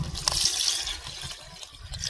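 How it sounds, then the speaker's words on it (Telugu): Water pours into a pot of chicken masala, a continuous splashing gush, with light clatter near the start. "చికెన్ బాగా ఉడికేటట్టు కొన్ని నీళ్ళు అయితే పోసుకున్నాం."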